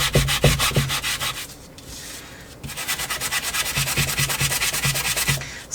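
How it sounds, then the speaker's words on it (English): Hand sanding in an art studio: quick rhythmic back-and-forth rasping strokes, close and clear, broken by a short pause before the brisk scrubbing resumes. "Let's just sand these a little."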